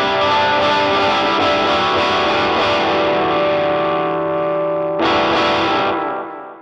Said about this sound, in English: we're actually gonna use the digital delay pedal here. And I'm actually gonna turn this effect up way more than I would